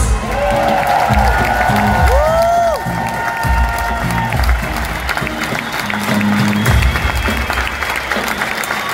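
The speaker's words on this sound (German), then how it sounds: "Jungs und Mädels, das ist euer Applaus" A large concert crowd in Bremen applauds and cheers loudly, with dense clapping, whoops and shouts, while pitched tones from the stage sweep through the din.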